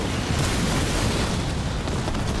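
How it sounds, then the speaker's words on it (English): Mines detonating in the real-time strategy game Halo Wars 2, a dense, continuous low rumbling roar of explosions filling the whole stretch at steady loudness, with no voices over it. "Mines detonate, but actually nobody gets hurt."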